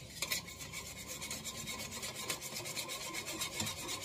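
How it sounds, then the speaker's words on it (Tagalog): A whisk rubs and scrapes steadily against a bowl as oil and ketchup are beaten together into a pork barbecue marinade, a close, continuous rasping with no voices. "Tapos gumamit na lang ako ng whisk"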